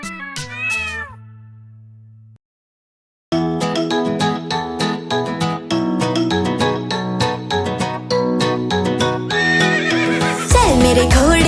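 Cartoonish animal calls over bouncy children's rhyme music, including a whinnying horse neigh near the end, with rhythmic clip-clop hoof beats through the tune.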